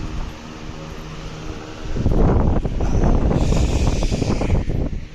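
A freshly painted household air cooler starts up indoors, shifting from a quiet hum to a loud, steady rushing blast of air that continues to the end.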